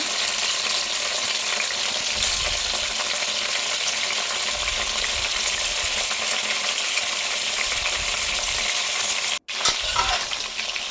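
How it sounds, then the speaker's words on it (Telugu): Brinjals (eggplants) frying in oil, giving a steady, even sizzle throughout with a brief dropout near the end. "వంకాయలన్నిటిని మొత్తం ఆయిల్లో వేసుకొని ఫ్రై చేసుకోవాలన్నమాట"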